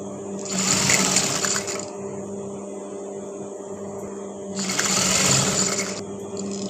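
A sewing machine stitching a cut joint on fabric runs in two bursts of rapid, whirring needle strokes about a second long each, close and clear, separated by a quieter pause with background hum.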